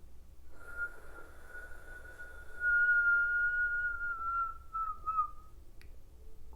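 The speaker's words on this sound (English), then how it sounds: "you close the mouth and exhale through the nose. It makes a whistling sound" A single thin, steady whistling tone from breath exhaled through the nose with the mouth closed holds for several seconds, then wavers and drops off, quiet and close, with no talking.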